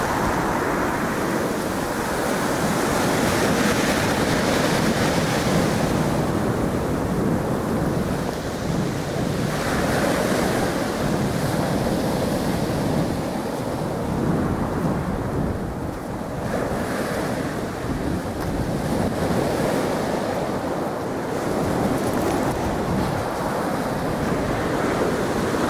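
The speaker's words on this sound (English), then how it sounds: "Something about the crashing of the waves on the beach." Waves crash and surge continuously on a seafront beach, a loud rolling wash of surf mixed with buffeting wind noise, with no voices.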